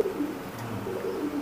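Imported Teddy pigeons, a pair let out to show, give low soft coos that rise and fall in a couple of phrases, close and moderately loud, with no talk over them.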